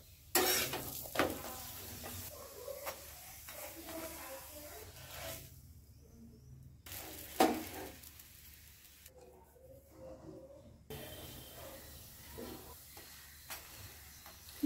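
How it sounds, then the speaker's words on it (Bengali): A buttermilk paratha frying in a pan gives a soft, quiet sizzle and hiss that comes and goes, with short crackling bursts and near-silent pauses between them. "বাকি পরোটাগুলো আমি একইভাবে ভেজে নিচ্ছি"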